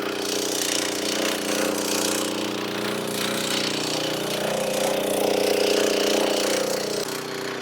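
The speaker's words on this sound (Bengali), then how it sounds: "কত সুন্দরভাবে মেশিনটা চলছে" A Heavyator 7HP machine engine runs steadily nearby with a loud, continuous chugging drone and rattling mechanical clatter, no talk over it.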